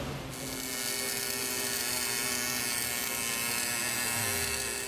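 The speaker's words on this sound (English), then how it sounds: "This is the automatic welding machine." An automatic welding machine in a Boston plumbing shop runs with a steady, loud electric buzz and whine that holds evenly from start to finish, with no speech.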